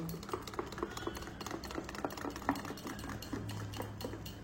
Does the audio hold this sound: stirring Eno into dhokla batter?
yes